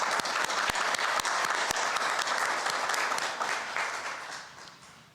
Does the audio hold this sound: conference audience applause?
yes